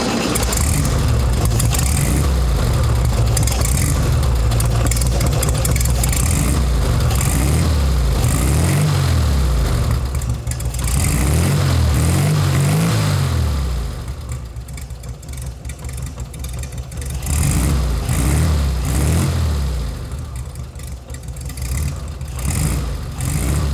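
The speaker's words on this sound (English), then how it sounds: "Let's fire it up and get the engine running." A 1969 Volkswagen Beetle engine cranks and catches, then runs with a steady low rumble, dipping and surging a little as it settles into idle. Close and loud, no talking.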